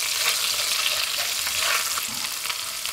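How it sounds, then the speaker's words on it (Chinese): Chili peppers and minced garlic stir-frying in hot oil in a wok, a steady close sizzle with scraping stir strokes throughout, no voices. "另起锅放油。 放入小米辣、蒜末，"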